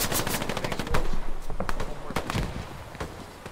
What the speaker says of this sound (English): It's sick to have a machine gun where I am.